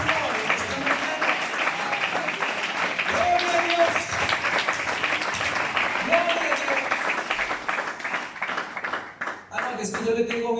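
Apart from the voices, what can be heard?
congregation applauding in church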